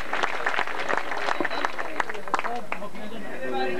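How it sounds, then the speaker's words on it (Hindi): Audience clapping at a prize-giving ceremony as a guest is called to the stage, a dense continuous patter of many hands with crowd chatter and voices mixed in. "तालियां।"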